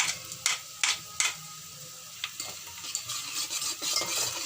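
Onions frying in a pan as ground red chili, turmeric and crushed red chili are stirred in for an Indian aloo palak methi dish, with a steady close sizzle and several sharp spoon scrapes early on.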